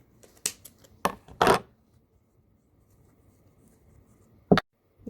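Scissors snip through ribbon while making a Christmas bow: a few short, sharp cuts close together near the start, then a pause before one more crisp snip.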